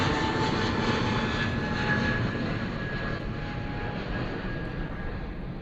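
EasyJet Airbus A320neo jet climbing steeply after takeoff from Bristol Airport, a loud, steady broadband engine roar with faint whining tones that holds throughout and eases slightly as it climbs away.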